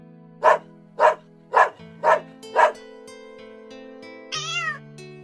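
A kitten crying for its mother in a children's stage play based on a fairy tale gives five short, evenly spaced meows, then a longer wavering cry, all over a soft sustained musical backing.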